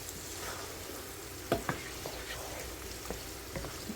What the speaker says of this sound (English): Then I'm going to add in the chopped tomatoes